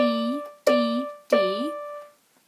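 Three slow, sustained piano notes from a song's melody ring out one after another. Each note is struck cleanly and allowed to decay, and the last one fades into silence.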